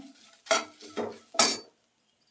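Grated coconut warmed in a hot pan for a radish sambar, with three distinct bursts of stirring and scraping against the metal and a faint sizzle between them, close up.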